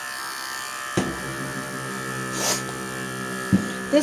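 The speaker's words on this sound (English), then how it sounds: "this shaver is not very loud, so it doesn't bother them like other ones I have used in the past" An electric shaver trims the mane of a Persian cat, giving a steady, fairly quiet, close-up motor hum throughout with a few brief bumps and clicks as it moves through the fur.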